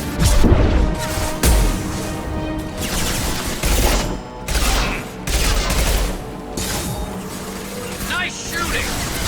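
Gunfire in a Mass Effect 2 firefight, dense bursts of shots and impact crashes layered with game effects and music, loud and continuous throughout with brief lulls.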